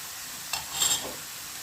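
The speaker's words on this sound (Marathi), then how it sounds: "कांदापात एकच सेकेंड कांदापात तेलात भाजून घेऊया" Spring onion greens dropped into hot oil, a quiet background hiss that rises into a short sizzling burst with a stir, then settles back to a faint steady fry.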